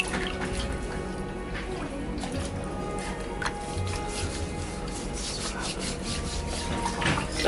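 Hands scrubbing bare feet during a cheap foot massage, a steady soft rubbing and scraping texture that runs continuously at close range with no talk over it.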